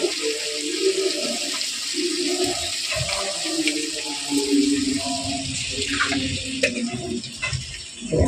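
Water poured into a pan of spices frying for cauliflower khichuri (tomato, coriander, cumin, turmeric, Kashmiri chilli powder), a loud close rush and hiss with bubbling sizzle that continues throughout.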